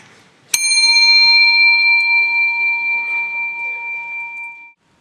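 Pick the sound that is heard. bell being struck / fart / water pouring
bell being struck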